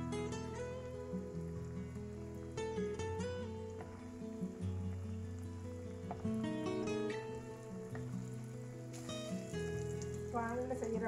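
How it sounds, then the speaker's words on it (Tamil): Corn samosas made from bread cones fry in hot oil, a soft, steady sizzle running beneath background music throughout. "இனி நாங்கள் இதுக்குள்ள இந்த கார்ன் சமோசாவை போட்டு பொறிச்சு எடுத்துக் கொள்ளுவோம்"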